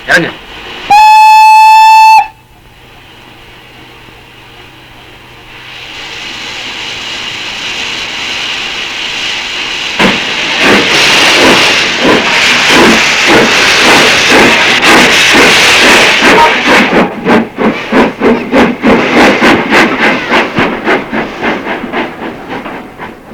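A train in an Indian film scene sounds a brief loud horn, then rolls in with a steadily building, rhythmic clickety-clack of wheels over rail joints that stays loud and close toward the end.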